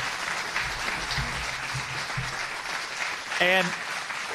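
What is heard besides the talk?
audience applause for mayoral candidates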